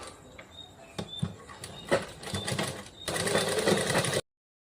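A sewing machine stitching lace, its whirring rattle running in short bursts and then steadily near the end, recorded close with light background clicks.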